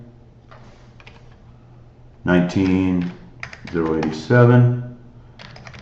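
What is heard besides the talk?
typing numbers on a computer keyboard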